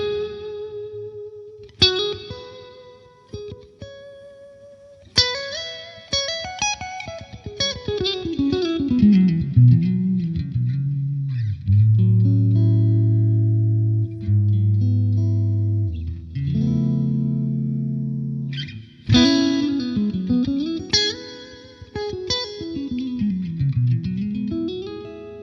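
A clean electric guitar played through a Line 6 Helix amp modeler set for Dumble or Two Rock style tones, with chorus-like shimmer and lush reverb, featuring sustained chords and melodic runs.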